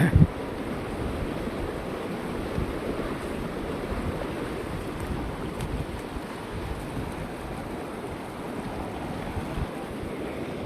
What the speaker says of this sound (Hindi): पानी का बहाव आप देख पा रहे हैं